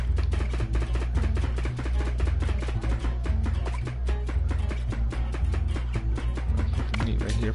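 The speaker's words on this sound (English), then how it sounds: "meat's chopping" Meat is chopped in the cooking video game Overcooked as a quick, steady run of chopping knocks over a loud, busy game soundtrack.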